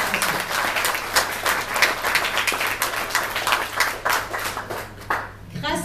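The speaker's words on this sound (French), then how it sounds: "j'aimerais bien que tout le monde applaudisse François G et son équipe" Audience applause at an outdoor political rally, a crowd clapping steadily in a close, loud burst with rhythmic pulses, cut off abruptly near the end.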